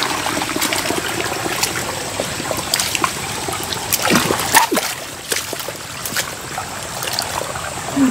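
Rainwater flows and splashes along a muddy rural footpath through farmland, a steady close trickling rush with scattered sharper splatters.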